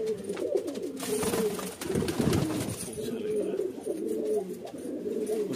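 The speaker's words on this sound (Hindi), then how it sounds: "ये एक चीना कबूतर है भाई हरे में, और अच्छी बढ़िया क्वालिटी में है" A green Chinese breed pigeon coos softly with low throaty calls, close by amid rustling and faint background noise.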